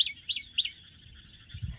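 Sparrows chirping around a farm pond near a mango tree: three quick sharp chirps up close, then a continuous twittering chorus with a soft low thump near the end.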